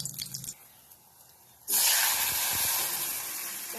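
Chili and panch phoron spices hit hot oil in a wok for an Assamese fish curry with Indian gooseberry, bursting into a loud, sudden sizzle that hisses steadily after a quiet start.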